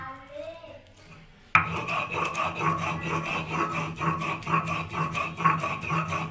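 Cumin seeds are ground on a grinding stone in a home kitchen, a rhythmic scraping rasp of stone on stone that starts abruptly after a quiet moment and continues in steady strokes close by.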